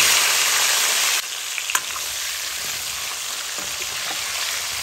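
Cauliflower and potato fry in hot oil in a pan, a loud, dense, steady sizzle that drops slightly after a second, with a faint clink partway through and no voices.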